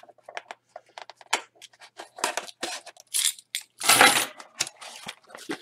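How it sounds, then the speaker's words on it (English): Keys jingle and clink in quick, irregular bursts as they are grabbed up close, with sharp metallic chinks and one louder jangle. "Grab my keys."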